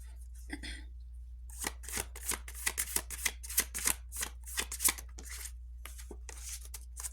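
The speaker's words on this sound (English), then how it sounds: "I'm going to do a quick shuffle here before we pull the tarot." Tarot cards shuffled by hand in quick riffling bursts, crisp papery flicks over a steady low hum, close and fairly soft.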